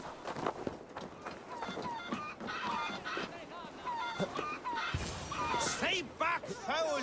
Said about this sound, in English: You mean Hemminger's famous fighting roosters?